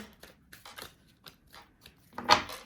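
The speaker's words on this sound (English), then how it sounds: "I have been shuffling the cards for a little bit," Playing cards are handled and shuffled in soft, uneven flicks and riffles, ending with a louder snapping riffle, close by.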